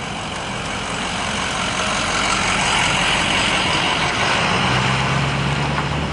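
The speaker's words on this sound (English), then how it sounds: "Here comes another car, big old truck." A big truck rolls past on a road near someone on foot. It makes a loud, steady roar of engine and tyre noise that swells and holds for several seconds, with no voices over it.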